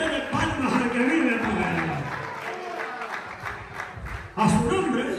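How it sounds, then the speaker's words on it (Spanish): A church congregation claps together in a lively burst that fades and then surges again near the end, with voices and murmuring mixed in. "Dele palmas al que vive."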